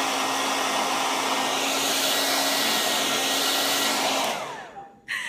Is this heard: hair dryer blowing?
yes